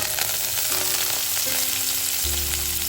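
Cumin seeds, curry leaves and coriander sizzle in hot oil for a tempering, a loud, continuous close-up frying hiss with faint stirring underneath.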